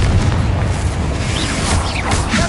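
A Confringo blasting spell exploding in Hogwarts Legacy, a loud, dense, rumbling boom lasting through the whole short moment, with crackling debris on top.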